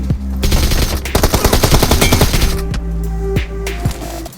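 Automatic weapon fire in the battle royale video game PUBG, rapid loud bursts of shots with short gaps, played back close and dominating, no talking.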